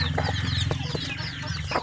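Free-range chickens of an oriental breed clucking close by, a steady run of short, overlapping clucks and calls over a low background hum.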